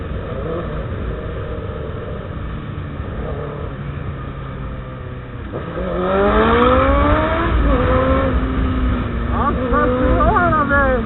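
A Chevrolet Camaro revs hard, rising and falling engine sweeps sounding up close and loud after a quieter start, with excited voices talking over it.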